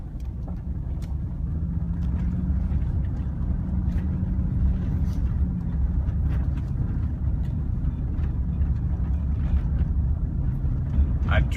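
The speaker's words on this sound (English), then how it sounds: "We veered left onto a gravel road." A car rolls along a gravel road near Lake of the Ozarks, a low steady engine rumble with tyre crunch beneath it, heard from inside the vehicle under scattered speech.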